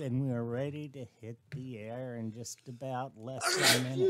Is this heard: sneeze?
yes